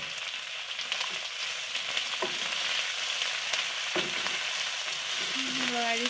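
Meat frying in plenty of oil in a pan with banana flower and potatoes, broiler chicken standing in for pigeon. It gives a continuous close sizzle with occasional stirring scrapes and clanks of the utensil and no talking.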